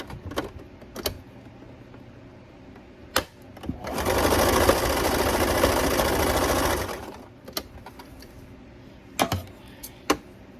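A sewing machine running a zigzag stitch to close a small spot on a satin bonnet, one continuous close whirring burst of about three seconds between quiet handling clicks and taps.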